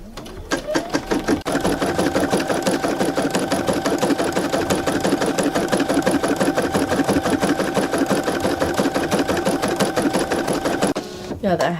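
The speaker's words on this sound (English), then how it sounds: "Now that my backing is in place, it's time to run the satin stitch around your design." An embroidery machine runs a satin stitch on a towel for a Santa design, a loud, close, steady rapid needle rhythm that continues almost unbroken for about ten seconds before briefly stopping near the end.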